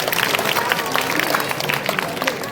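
A crowd at a school function claps in welcome for students of Maulana Azad Urdu High School, a dense, continuous burst of hand claps at fairly close range with no pauses.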